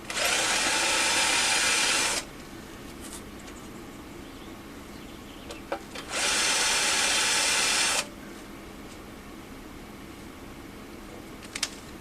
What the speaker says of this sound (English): now I've got to be careful that I don't drill right through the whole plate